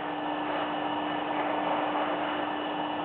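A motor controlled remotely through a GSM telecontrol unit runs as a steady, even hum with a constant tone, unbroken for the whole stretch, with no voices.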